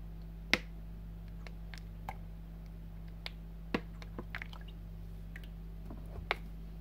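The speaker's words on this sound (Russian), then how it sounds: "И все хорошенечко перемешиваем, чтобы не было никаких комочков." Thin pancake batter made with water and vegetable oil is stirred in a bowl, giving scattered soft wet clicks and squelches over a quiet low hum.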